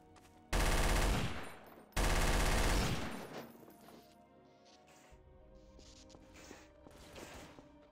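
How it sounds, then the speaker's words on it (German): Two loud bursts of rapid automatic gunfire crack out in Trouble in Terrorist Town, each rattling for about a second or more, followed by quieter ringing tails and faint distant shots and footsteps. "Aha, jemand hat geschossen"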